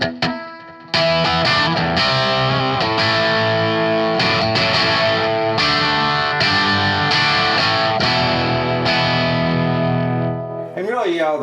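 A Telecaster played through a Metropoulos Metro Plex 100 amp chugs out loud, crunchy 70s-style rock rhythm chords in a steady pattern, ending with a sustained chord and a brief slide.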